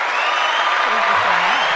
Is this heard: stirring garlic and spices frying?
no